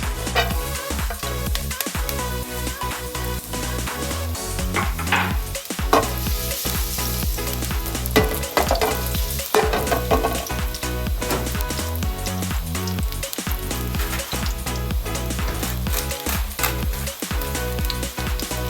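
Garlic frying in olive oil in a fresh pan fills the scene with a dense, constant crackling sizzle, close and fairly loud, with a few brief stirring knocks and no voices.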